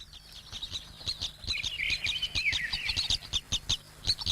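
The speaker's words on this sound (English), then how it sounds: "another Highland bird, the crossbill, forages for seed-filled cones" Crossbill calling in a Highland pine forest in late April, a rapid series of sharp, clipped chirps and chips, moderately close, repeating irregularly over several seconds with no talk.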